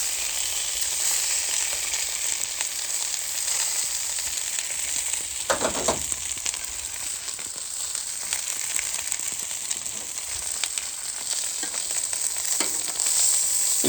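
Caramelised onion sausages sizzle on a Callow four-burner plancha griddle: a steady, dense frying hiss runs throughout at even loudness, with a brief louder scrape or crackle near the middle and a few lighter clicks later.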